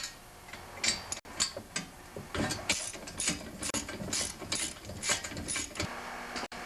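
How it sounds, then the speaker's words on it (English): Ratchet wrench loosening shear bolts on an MTD snowblower auger, rapid clicking pawl strokes in repeated bursts, close and crisp with brief pauses between pulls. "So I'm going to remove the shear bolts now."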